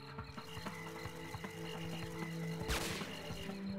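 Gunshots in the PS2 game Ghost Hunter, a scatter of quiet sharp cracks against a low background hum, ending in one louder burst of noise near the end.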